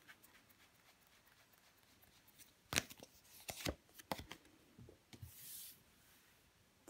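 Tarot cards handled and drawn at a reading table: several close, soft slaps and rustling card sounds, irregular and quiet, followed by a brief swish.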